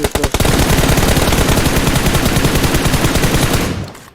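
Automatic gunfire in a video game, a loud, close, rapid unbroken burst of shots lasting about four seconds before cutting off.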